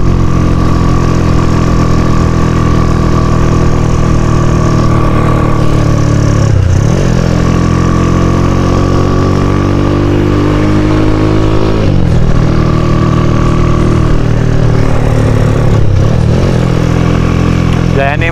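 A motorcycle engine runs steadily and loud throughout, a droning idle with slight rises and dips in pitch, heard close up with no break.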